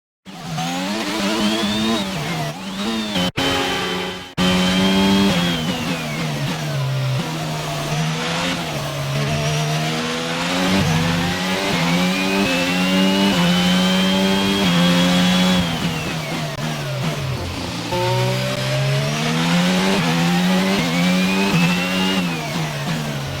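An F1 car engine from the racing video game F1 22 howls loudly and continuously, revving up and down through gear changes with rising and falling pitch sweeps, alone and close throughout.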